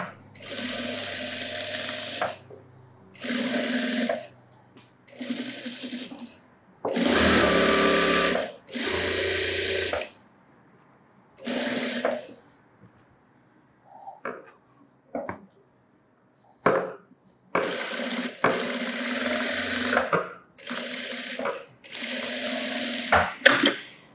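Sewing machine stitching a sleeveless model blouse, running in repeated bursts of a few seconds each with short pauses between, close and steady, with no talk over it.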